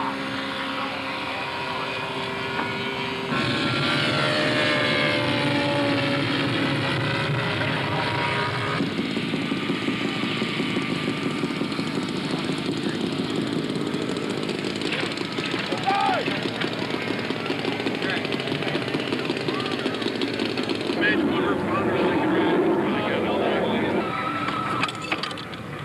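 A radio-controlled scale model airplane at a 1989 US Scale Masters contest flies overhead, its engine a continuous buzzing drone that rises and falls in pitch as it passes, with an announcer talking over the public address.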